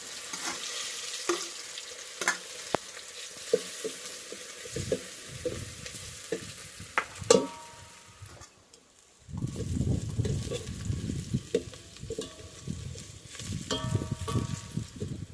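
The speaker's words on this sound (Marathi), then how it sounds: "चांगला भाजून घ्यायचं लसूण लाल पडून तर भाजून घ्यायचं" Garlic roasts in a hot pan while being stirred for a village-style fish dish. A steady crackling sizzle runs throughout with repeated scraping stir strokes, getting louder and denser in the second half.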